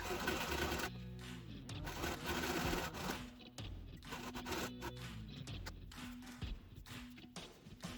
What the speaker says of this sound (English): I went ahead and sewed my pieces all together